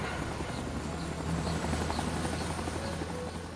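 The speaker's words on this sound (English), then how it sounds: "today we are flying none other than the Hughes OH-6 Cayuse in Rising Storm 2 Vietnam" A Hughes OH-6 Cayuse helicopter flies in Rising Storm 2: Vietnam, its engine drone steady and loud with a rapid rhythmic rotor thump throughout.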